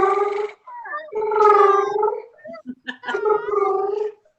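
A person imitates a cat purring with voiced, gargly rolling sounds in several bursts, loud and close, broken by short pauses and a few clicks.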